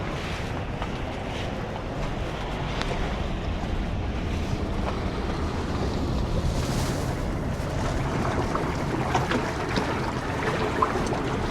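Sea waves surge against coastal rocks near a cave, a loud continuous rushing wash with rumbling low roar and wind buffeting the microphone throughout, no voices.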